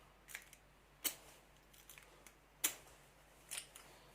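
Kinetic rake lock pick from a Multipick set raking a stock Lockwood lock, faint quiet clicks and three sharper metallic snaps spread over a few seconds, close and alone.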